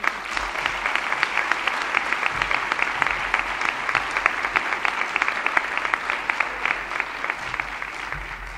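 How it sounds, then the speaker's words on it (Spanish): A crowd applauds steadily for several seconds at a ceremony honouring a flamenco guitarist, dense continuous clapping from many hands, even in loudness throughout. "para los que pido un aplauso porque lo están haciendo muy bien."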